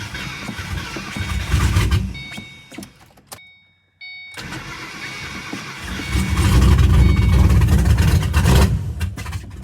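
A rebuilt 2006 Ford Mustang GT V8 engine runs loudly close by, rumbling and revving, then drops to near silence for a moment before restarting and building to a heavier, sustained roar.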